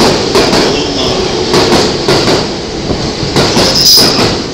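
A JR East E233 series train at a Tokyo Station platform moves loudly past with rumbling wheels, rhythmic clacking over rail joints and a brief high squeal, heard close by.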